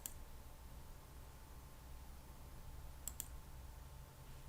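Two quick, faint computer mouse clicks land close together near the end, set against a quiet steady room hum while someone works through an M&M color distribution pie chart.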